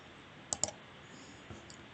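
A computer mouse clicks a few times on an installer's Next button, sharp close clicks in a quick pair, then another faint click, over a quiet room hiss.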